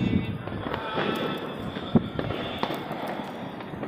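Diwali fireworks and firecrackers go off across a rooftop view in Ranchi on a cold night, a steady distant crackle and rumble with scattered sharper pops and one louder bang, wind noise brushing the microphone.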